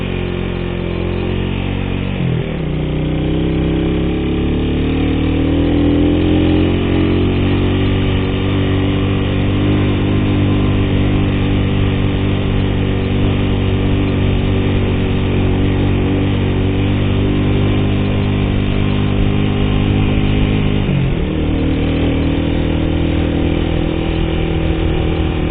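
A vehicle engine labours in low gear, shifting between first and second up a long, very steep village road in the Garut countryside; a steady, loud drone runs throughout, dipping briefly at two gear changes near the start and end.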